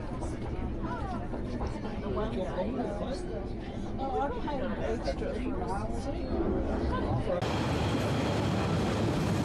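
Northern Explorer passenger train rolls along the main trunk line from Wellington toward Auckland after rain, a steady loud rumble and rattle of the carriages running throughout while a voice talks over it.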